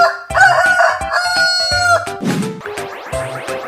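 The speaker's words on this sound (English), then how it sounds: "Chicken." A cartoon rooster crows a loud, drawn-out cock-a-doodle-doo with bright harmonic calls and a few clucking notes, up close over a busy animated soundtrack.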